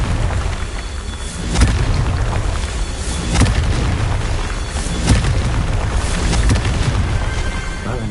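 Booming Confringo fire-spell blasts in Hogwarts Legacy roll over a dense, continuous rumble. Several heavier thuds recur roughly every second or two, loud and close with no clear gaps.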